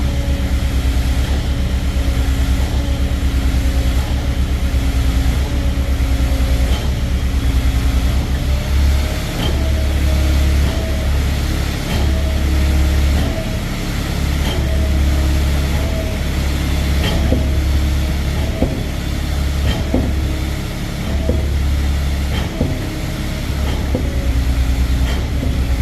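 A Putzmeister concrete pump runs steadily for a new concrete slab, a loud, constant low rumble and engine drone with faint rhythmic knocks of the pumping cycle throughout.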